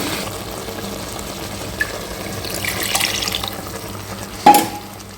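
Water is poured from a vessel into a pot of raw mango sambar with cooked lentils. A soft splashing pour rises midway and ends in a brief clank near the end. No voices are heard.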